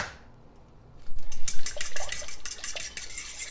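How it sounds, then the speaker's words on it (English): A whisk beats a cup of milk and two eggs in a glass bowl, a quick run of rhythmic clinking strokes that starts after a quiet second and continues to the end. "So I have a cup of milk that's gonna go in here with 2 eggs. And we're gonna whisk those together."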